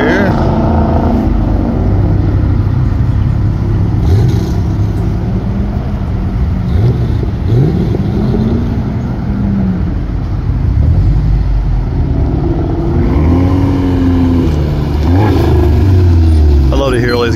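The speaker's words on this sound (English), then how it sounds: "I love to hear all these guys rev up all at once." Several cars, including a Dodge Challenger, rev their engines together at a mall parking lot time race, a loud continuous low rumble with rising and falling revs, while people talk nearby.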